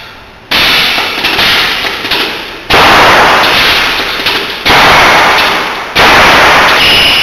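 A Gatling gun run by an Allen Bradley PLC fires four loud, sustained bursts of rapid shots at close range, each ending abruptly before the next begins.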